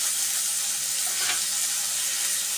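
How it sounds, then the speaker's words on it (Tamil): Onions and tomatoes sautéing with turmeric, coriander powder and salt for a mutton curry, a steady soft sizzle with a brief stir partway through, even and close. "இப்போ நல்லா வெங்காயம் தக்காளியெல்லாம் நல்லா வதங்கணும்"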